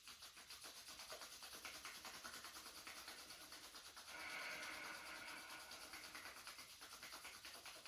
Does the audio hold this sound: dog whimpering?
no